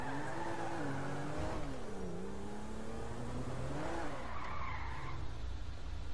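A car skids and spins out in the GTA 5 video game: loud engine revving under long, wavering tire squeals that rise and fall over several seconds.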